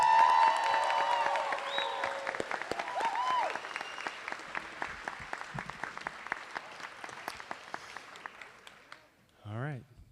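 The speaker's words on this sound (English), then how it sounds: "how about another huge round of applause for Team B" An audience at a school moving-on ceremony applauds Team B with loud, sustained clapping and some cheering, tapering into scattered claps before a brief voice speaks near the end.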